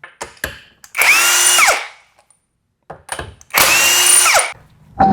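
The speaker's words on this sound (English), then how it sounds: "We're going to go ahead and spin off the lug nuts and set the tire aside." A power tool spins off the lug nuts on a 2017-2022 Kia Sportage rear wheel, giving two loud, close whirring bursts separated by quiet gaps and small clicks.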